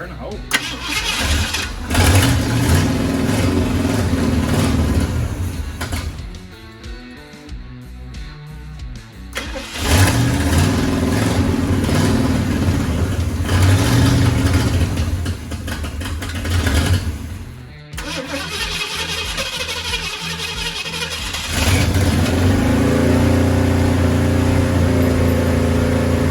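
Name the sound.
1969 Ford F100 truck engine starting and running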